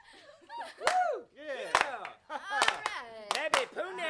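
Sharp handclaps from the isolated clap-and-vocals stems of a song, crisp repeated hits mixed among sung vocal lines.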